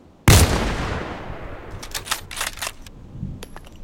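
A single loud Orsis rifle shot cracks out in the Contract Wars first-person shooter, its long ringing tail fading over several seconds, followed by a few short clicks and metallic rattles of the bolt being worked.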